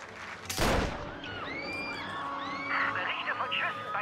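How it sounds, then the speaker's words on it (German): Gunfire in the video game Mafia Definitive Edition: one loud sharp shot bursts out early, followed by ringing tonal game sounds and crowd commotion. "Berichte von Schüssen bei Turnbulls Rede."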